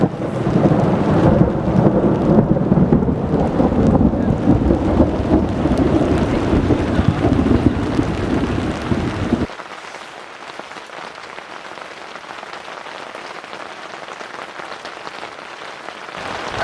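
Thunderstorm over a grassy campsite in Yellow River State Forest, Iowa: a loud, rolling rumble of thunder with heavy rain lasts about nine seconds, then drops abruptly to a softer, steady patter of rain.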